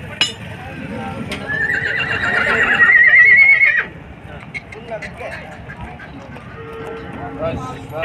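A Marwari horse at the Nagaur cattle fair gives a loud, drawn-out whinny that rises and holds for about two seconds before cutting off, set against busy fair crowd noise and scattered voices.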